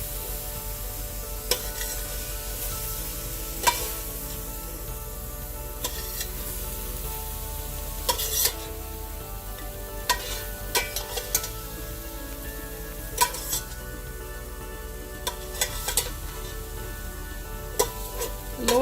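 Peppers frying in a pan give off a steady, close sizzle, broken by scattered sharp clicks and taps of a utensil against the cookware.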